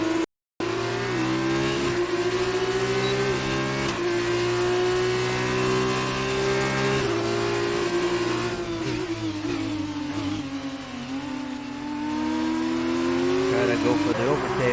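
Formula 2 race cars in the racing game F1 2019, at a Bahrain round, give a loud, sustained engine whine that rises and falls through gear changes, with a commentator talking over the racing.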